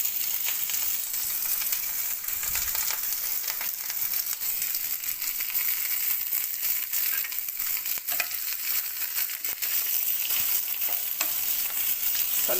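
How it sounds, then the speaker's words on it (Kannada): Onions, green chilies and curry leaves frying in a pan, a dense, steady hissing sizzle that stays loud and constant throughout, with faint stirring scrapes beneath and no speech. "ಈಗ ಈರುಳ್ಳಿ, ಹಸಿಮೆಣಸಿನ್ಕಾಯಿ ಹಾಕ್ತಾಯಿದ್ದೀನಿ."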